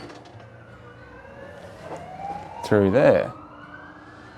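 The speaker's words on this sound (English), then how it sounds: "Now that's wonderfully timed police siren." A police siren in Hobart rises steadily in pitch from the distance as a voice speaks briefly, followed by a louder burst of nearby traffic noise.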